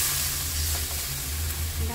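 Water from a bowl poured into a sizzling chhana kofta curry, giving a steady loud hiss and bubbling sizzle close by that holds evenly, with no voices.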